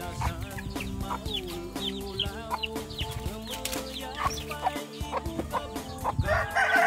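Pet ducks and chickens on a La Union farm cluck and chatter busily up close, with a rooster crowing amid the continuous overlapping calls of the flock.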